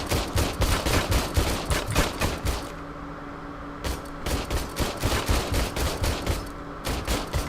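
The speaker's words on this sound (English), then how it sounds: "his gun just obliterates targets" RoboCop's gun in RoboCop: Rogue City firing in rapid, loud close bursts, a pause of a second or so, then more repeated volleys of shots.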